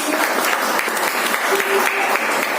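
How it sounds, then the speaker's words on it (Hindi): An audience at a felicitation ceremony for class 12 topper students applauds a student with steady, fairly close clapping that continues throughout, with faint tones sounding underneath. "दोनों जोरदार तालियां संदीप के लिए, दोनों भाई बहन"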